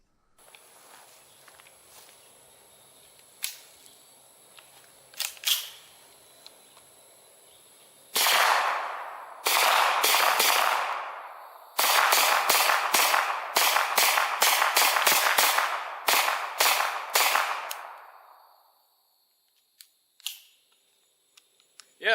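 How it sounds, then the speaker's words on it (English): A suppressed Kel-Tec SUB2000 Gen2 9mm carbine fires a few isolated muffled shots, then a quick cluster and a long string of rapid shots close by, each a sharp crack with a short tail, ending in quiet. "Shoots fine with the suppressor."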